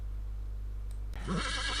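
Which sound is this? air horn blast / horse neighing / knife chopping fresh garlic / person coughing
horse neighing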